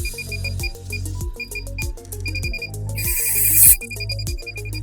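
A gas leak detector used during a car diagnostic health scan beeps in a steady, evenly spaced pattern, mixed with louder background music. The beeps blur into a denser burst near the end before settling back into their rhythm.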